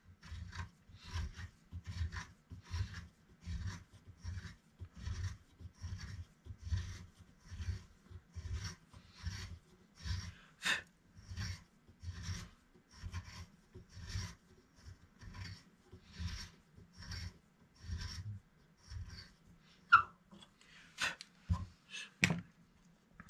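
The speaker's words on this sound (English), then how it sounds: "So we're going to ream it again." A hand reamer is worked back and forth in a guitar headstock tuner hole, making a steady series of close, rhythmic rasping scrapes, about one per second, with a few sharp clicks near the end.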